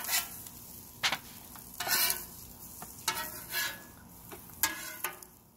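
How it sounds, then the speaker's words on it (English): Food sizzling on a hot grill in a diner-style cook, a continuous close frying hiss with repeated scraping and stirring strokes of a utensil on the surface, no talking. "I'm not going to cook this all the way through because it's going to go back on the grill again."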